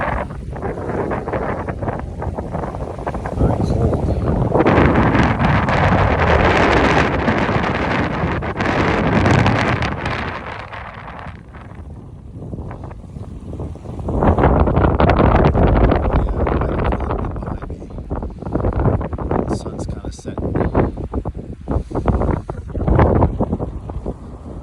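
Strong wind from a February snowstorm on a Cape Cod beach roars and buffets the microphone in loud, surging gusts that ease briefly before building again, with no talking.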